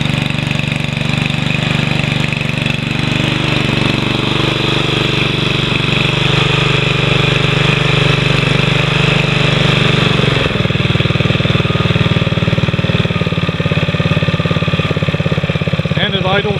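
A Honda HRM215 Harmony lawn mower engine runs in cold, snowy conditions, a loud, steady small-engine drone with a faint uneven knock, then settling lower toward idle; a voice speaks over it.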